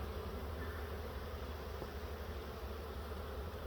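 A wild honeybee swarm buzzes in a dense, steady drone at close range, unbroken and alone, while the bees come and go around the hive box.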